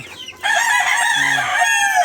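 Hens and chickens in a coop give a loud, sustained squawking call that runs over most of the stretch, with a short lower clucking burst near the middle and no voices.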